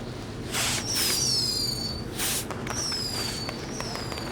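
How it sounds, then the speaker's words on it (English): Fireworks go off in the wrestling video game WWE 2K20. Several high whistling rockets glide downward between broad hissing, crackling bursts, all over a steady wash of background noise. "we'll get to see some cool fireworks"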